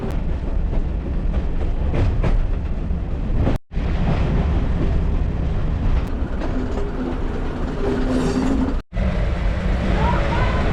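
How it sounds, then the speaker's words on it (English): Loud rumbling of a class 56 diesel locomotive train at the Bo'ness and Kinneil Railway diesel gala, close and continuous with a couple of brief cuts, and faint speech beneath. "we're going to jump on to this train and it's going to be class 56"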